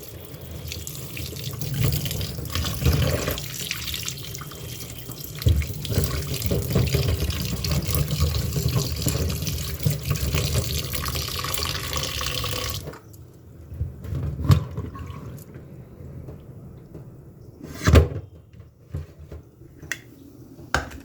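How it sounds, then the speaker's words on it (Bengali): Catla fish heads washed under a running tap: a loud, steady rush of water fills the first half, then stops, leaving scattered drips, splashes and knocks nearby. "মুড়োগুলো ধুয়ে নিই। কাতলা মাছের মুড়ো।"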